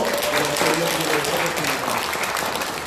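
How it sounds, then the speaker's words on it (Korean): A church congregation claps together at a retirement and pastor installation service, a thick, loud burst of applause with faint sustained musical tones running underneath throughout. "우리 기쁜 마음을 모아 하나님 앞에 영광의 박수로 올려드리도록"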